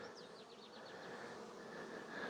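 Honey bees at a beehive produce a faint, steady buzzing hum, with a few brief chirps near the start, heard at a quiet level with no talk.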